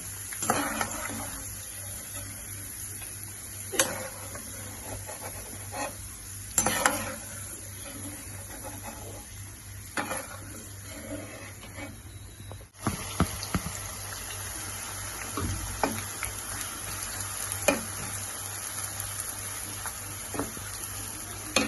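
Soft, steady sizzling of cashews frying in hot oil, with occasional clinks and scrapes of a utensil against the pan.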